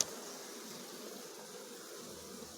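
Soft, steady insect buzzing hums continuously, a low, even drone of Buckfast honey bees at a hive with full boxes, no voices.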